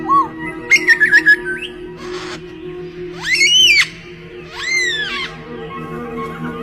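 A superb lyrebird sings a varied run of mimicked calls: rapid rising whistles, sharp chirps and a bright squawking burst. The phrases are loud and close, separated by short gaps, over a steady low background hum.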